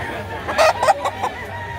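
A White Kelso gamefowl rooster gives a short, close run of clucking calls, moderately loud over a faint outdoor background.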